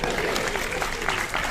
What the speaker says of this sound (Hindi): जोरदार ताली बजा दी बंगाली भाई